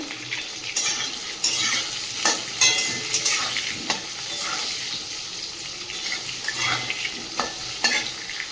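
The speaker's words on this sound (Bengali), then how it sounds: "আলুটা লবণ আর হলুদ দিয়ে ভেজে নেব" Potatoes frying in a pan with salt and turmeric, a loud continuous sizzle with frequent stirring clatters and scrapes close up, no voices.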